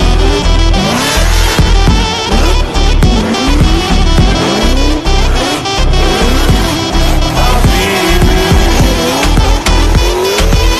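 A car drifts at full speed on the handbrake, its engine roaring loud and close while tires squeal in long sweeping wails that rise and fall repeatedly over a harsh, dense wash of noise.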